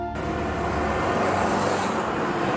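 A car drives along a road, a steady broadband engine and tyre rumble that holds constant throughout, close and fairly loud, with no clear talk over it.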